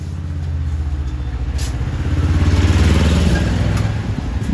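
A tractor engine runs steadily close by, a low rumbling chug that builds slightly in the middle, with no voices.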